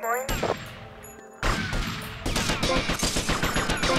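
Rapid bursts of gunfire and impacts in the video game GTA Vice City, loud and repeated with short pauses, over game music and effects.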